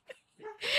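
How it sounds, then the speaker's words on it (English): A dog gives a couple of short yips and a bark in the background of a home, brief and moderately close, with faint whimpering tones between the calls. "you can probably hear the dog barking"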